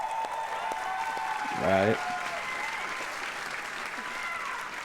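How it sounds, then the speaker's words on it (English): An audience at the Ubisoft E3 2019 conference claps in a brief, steady burst of applause heard from within the hall, with a voice speaking briefly at one point. "Why are you clapping?"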